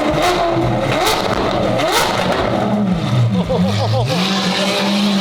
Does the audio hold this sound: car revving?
yes